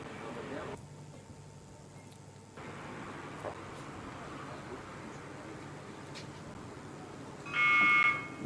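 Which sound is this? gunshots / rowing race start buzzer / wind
rowing race start buzzer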